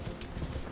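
Horse hooves gallop in Elden Ring's Shadow of the Erdtree, a quick run of soft clip-clop thuds, faint and brief, heard alone without talk.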